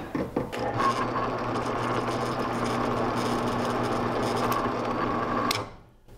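A drill driving a 1/4 inch Forstner bit into laminated wood pen blank stock for a jointed jerkbait lure, a steady close motor whine with grinding chatter that runs about five seconds and then winds down.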